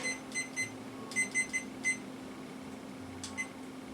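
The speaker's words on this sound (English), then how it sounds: "Timer's going" A kitchen timer beeps in short bursts of high electronic tones, a few quick beeps repeating at intervals, faint against a low steady hum.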